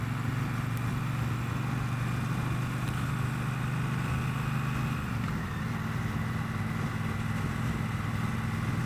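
Steady low engine hum of a Triumph Bobber motorcycle cruising, a continuous drone with a slight pitch shift midway as the bike settles into neutral, wind noise over the top and no talk.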